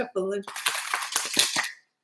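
Tarot cards are shuffled by hand in a rapid burst of crisp riffling and flicking close by, after a brief voice at the start.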